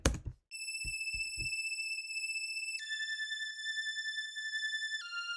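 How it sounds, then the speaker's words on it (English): A bright, sustained Hyperhorn synth preset from Sky Keys plays a slow counter melody for vintage R&B, long held tones stepping down in pitch with a gentle wavering, after a few soft knocks at the start, clean and alone. "this preset was the Hyperhorn preset from the Sky Keys, and it just sounded like this on its own"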